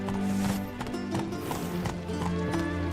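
Horse hooves clip-clopping at a quick, steady gait in The Witcher video game, with a continuous layer of game music and ambience underneath.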